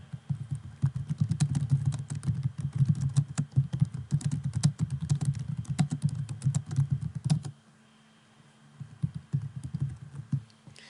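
Rapid, close clicking of keys on a computer keyboard while notes are entered into medical records, a steady burst of typing that pauses briefly, then resumes with a few more keystrokes.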